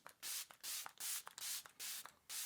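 Rapid pump sprays of a Korean white truffle spray serum, six short hissing bursts in quick succession, close and quiet, with faint clicks from the pump between them.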